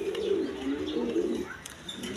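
A pair of Lahori pigeons gives a steady, low, throaty coo that carries on for a couple of seconds, close by.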